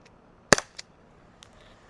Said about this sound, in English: Rib shot from the Byrna